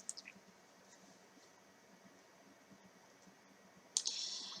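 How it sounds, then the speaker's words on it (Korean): A single computer mouse click sounds near the start, soft and close, followed by faint room hiss and a brighter click-like burst near the end, with no talking. "그 다음 다시 길찾기 클릭"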